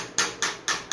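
A coconut is chopped into small pieces with four evenly spaced sharp chops, loud and close.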